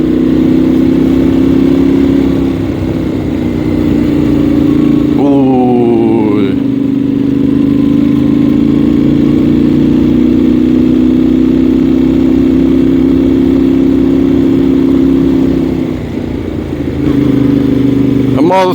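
A 2023 Yamaha Tenere World Raid motorcycle drones loudly and steadily while ridden on small roads in eco mode, with a brief shift in engine pitch partway through.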